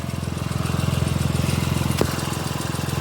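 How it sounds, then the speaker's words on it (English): Idling Ford EcoBoost car with a slight exhaust blow, a steady rapid puttering engine rhythm that stays loud and close throughout, with a brief sharp tick partway through. "You may have noticed that there is a slight blow from the exhaust."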